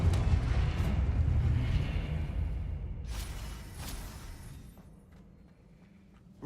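A Confringo blasting spell explodes in Hogwarts Legacy with a loud rumbling blast that rolls on, a second whooshing burst follows, then the boom fades into a low decaying roar.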